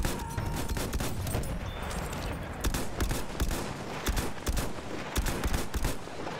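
Rapid gunfire in the first-world-war shooter Battlefield 1, played in multiplayer: steady bursts of sharp shots over a continuous battlefield rumble, with some sharper cracks close by.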